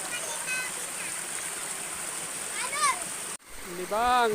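Children swim and splash in a river, with continuous rushing water and splashes under excited children's voices and shouts that rise near the end.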